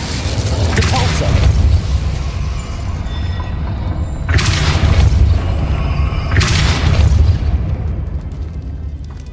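Depulso spell cast in the video game Hogwarts Legacy, heavy booming magical blasts with whooshing bursts, two strong surges in the second half over a dense rumbling game background.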